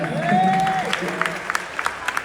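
A small studio audience at a podcast breaks into scattered, sparse handclaps after a voice speaks, the claps coming as sharp individual hits rather than a full roar.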